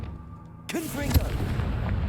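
A Confringo fire spell explodes in the Hogwarts Legacy video game, with a sudden booming blast and a crackling, rumbling tail, after a spoken incantation.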